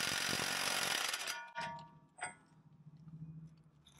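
The front axle nut on a Jeep is tightened during reassembly, with a loud rattling burst of an impact wrench or power tool followed by a few metallic clanks and faint ticking in a quiet garage.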